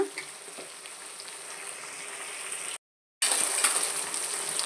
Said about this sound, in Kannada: ಇಷ್ಟನ್ನು ಹಾಕಿ ನಾವು ಒಂದೆರಡು ನಿಮಿಷ ಚೆನ್ನಾಗಿ ಫ್ರೈ ಮಾಡ್ಕೊಳ್ಳೋಣ